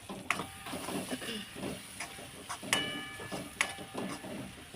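Ground tomato, garlic, ginger and chili masala frying in oil makes a quiet, soft sizzle broken by occasional sharp ticks and spits, heard close with no speech.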